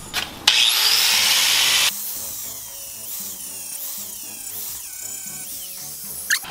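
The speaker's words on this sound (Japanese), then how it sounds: "これ80番に変えてグラインダーにつけてやっていきます" Angle grinder with an 80-grit disc grinding rust off a Mazda Roadster's steel side sill, heard as a loud, close, harsh burst of grinding that stops abruptly, followed by quieter scraping and rubbing.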